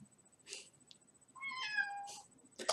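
A cat meows a few times, the calls rising and falling in pitch and separated by brief pauses, heard fairly close and clear with no one talking.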